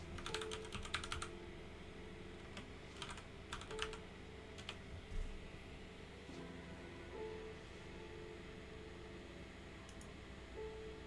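Typing on a computer keyboard, bursts of rapid clicky keystrokes with pauses between them, fairly faint over a low steady hum, no talking.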